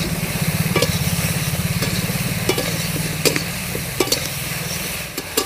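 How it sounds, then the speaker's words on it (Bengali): Taro stolons (kochur loti) fry in a pan over low heat and get stirred, with rhythmic scraping and occasional sharp utensil knocks over a continuous sizzle and a low hum, close by and without speech. "এবারে কিছুটা সময়ের জন্য আমি ঢাকনাটা তুলে ভালো করে নেড়ে চেড়ে দেবো।"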